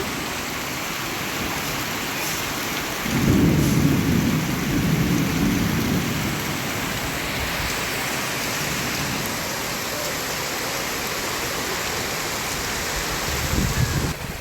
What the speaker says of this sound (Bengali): ভালো বৃষ্টি শুরু হয়ে গেছে